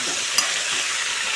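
Raw banana pieces sizzle steadily in hot tempering oil in a pan, with a brief scrape of stirring early on and no voices.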